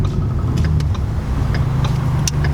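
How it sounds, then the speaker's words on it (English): A modded Ford Mustang EcoBoost engine downshifting in a tunnel, a loud steady low drone with reverberant rumble and a few faint crackles and pops along the way. "We'll do a downshift and see how that sounds."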